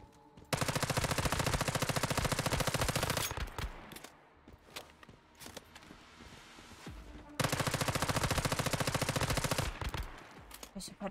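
Rapid automatic gunfire in the video game Once Human, in long bursts, a pause with scattered shots and clatter, then another long sustained burst, loud and close.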